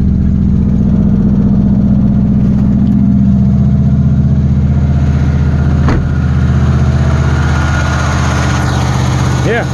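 A Chinese-built Ford 2100 tractor engine idles steadily after carburetor work, a loud, close, rough and noisy drone that holds even with no talk over it.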